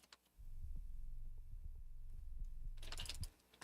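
A low sub bass synthesizer in a metal song demo plays a deep, humming note with a subtle throbbing pulse, quiet and sustained for about three seconds, with faint clicks over it and a short burst of brighter noise near the end.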